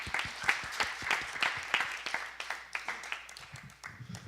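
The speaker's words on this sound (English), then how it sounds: "give it up for a round of applause for Kiyoshi and Krista." A small audience at a talk gives a scattered round of applause, individual claps distinct and uneven, fading and thinning toward the end.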